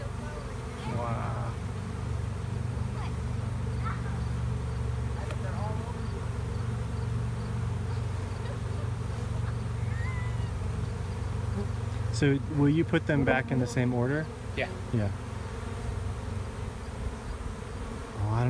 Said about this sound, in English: I don't know if you guys can hear this chorus of bees